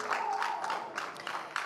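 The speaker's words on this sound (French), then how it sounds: "Applaudissez, veuillez vous lever pour accueillir ces sommités." Scattered applause from an audience at a ciné-club screening as they stand to welcome honoured guests, soft and diffuse with a faint voice in the crowd.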